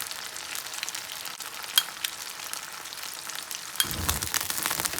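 Vodka hits a hot pan and sizzles loudly, a crackling, hissing fry that stays steady and close, with a sharper burst of sizzle near the end.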